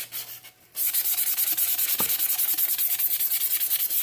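Sandpaper rubbed by hand over a tumbler cup to prep it for an epoxy coat, a close, steady run of quick back-and-forth scratching strokes after a brief quieter start.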